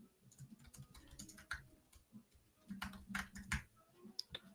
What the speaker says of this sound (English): I'm just typing something into YouTube here